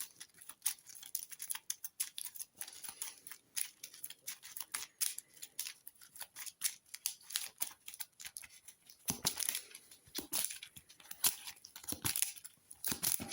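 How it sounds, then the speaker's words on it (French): A deck of cards for the Heat racing board game is shuffled close by, a run of quick, crisp riffling and flicking bursts, fairly faint, with busier snapping toward the end. "Donc là, je peux mélanger et reprendre 4 cartes."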